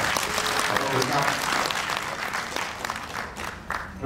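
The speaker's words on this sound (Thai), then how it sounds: "จะไม่ปรบมือให้แก่กันและกันเสียครับ" Audience at a national health assembly gathering in Thailand clapping, a loud continuous round of applause with some crowd voices, tapering off over about four seconds.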